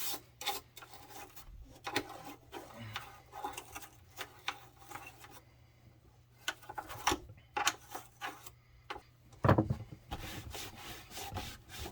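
Toothbrush bristles scrubbing the ports of an Xbox console, giving soft close rubbing and rasping strokes in irregular bursts with brief pauses, quiet and alone.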